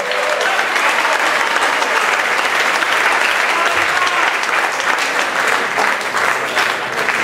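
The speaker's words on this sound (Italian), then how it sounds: "Allora dovete applaudire più forte" An audience at the Ameno Blues festival applauding a live band, dense continuous clapping with a few scattered shouts, loud and sustained throughout.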